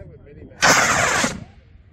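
A model rocket lifts off at a sport launch right after a countdown, a loud roaring burst of motor exhaust lasting under a second before dropping away into quieter background.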